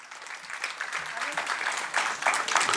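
Steady applause from an audience at a Hindi stage play performance for the actors, moderately distant and building slightly louder toward the end, with faint voices mixed underneath.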